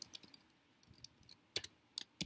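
Faint, quiet keystrokes tap on a computer keyboard in short irregular clusters of clicks, with a few sharper taps near the end.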